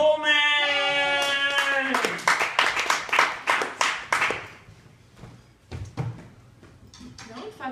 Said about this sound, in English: No one fucking said you could stop clapping.